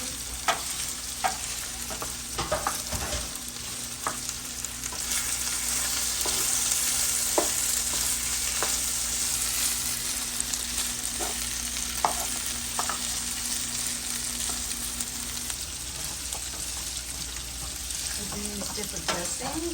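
Food frying in a pan while being stirred, a steady sizzle broken by repeated scrapes and clacks of a utensil, close and fairly loud, with a low hum underneath for most of the time.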